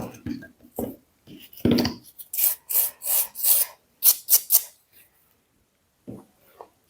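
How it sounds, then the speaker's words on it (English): A nail file buffing a glitter-inlay fingernail, giving a series of short raspy rubbing strokes in bursts, some quick and close together, with brief pauses between. "Buffing all around this area as well."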